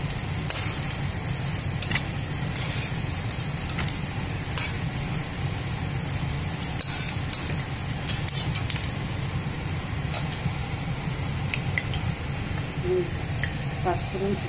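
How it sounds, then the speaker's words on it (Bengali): Eggplant fries in oil in a pan, giving a continuous, even sizzle with a low rumble underneath and scattered small clicks and crackles throughout. "বেগুনটা ভাজা হয়ে গেছে,"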